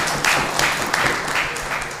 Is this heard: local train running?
no